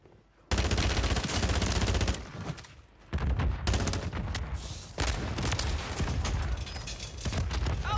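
Sustained loud automatic gunfire in Call of Duty Warzone, long dense bursts broken by short gaps, close and dominant with little else over it.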